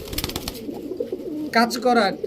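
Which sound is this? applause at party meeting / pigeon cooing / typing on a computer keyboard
pigeon cooing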